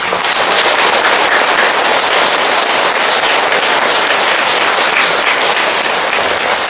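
A congregation gives a monk a big round of applause at a Buddhist temple dharma service, a loud, dense, continuous wash of clapping with no voices over it.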